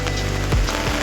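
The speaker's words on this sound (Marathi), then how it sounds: "बघा आता मी खाली आले तेव्हा केवढा जोरात पाऊस चालू झालाय" Heavy Mumbai monsoon rain pours down in a dense, steady wash of hiss that fills the whole second, loud and close, with no voices.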